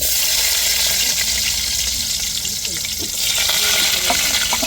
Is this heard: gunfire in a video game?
no